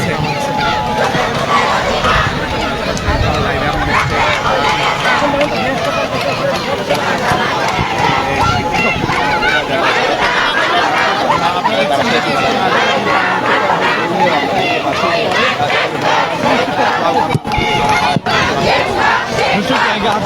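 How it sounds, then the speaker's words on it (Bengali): Protesters staging a sit-in on a highway in front of the Secretariat chant slogans as a dense, continuous crowd roar, loud and sustained throughout with overlapping voices and rhythmic shouting. "সেখানে তারা স্লোগান দিচ্ছেন"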